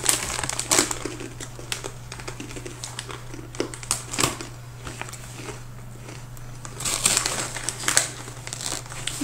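Hard, cheesy twisty snacks crunch and crackle close up in bursts of chewing, with packet crinkling throughout and no voice heard.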